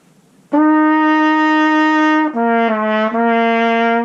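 Close, bright trumpet tones from a theme, using an F: a long steady note followed by a short three-note phrase moving lower then back, played solo with no voices.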